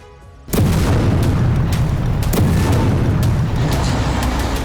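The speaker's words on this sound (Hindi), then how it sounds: "गाजा में हमास की बारूदी सुरंगों को तबाह करने का सिलसिला जारी है।" A heavy explosion from Israeli combat engineers demolishing a Hamas tunnel in Gaza erupts after a quiet half-second, followed by a loud sustained rumble with scattered cracks and debris bursts.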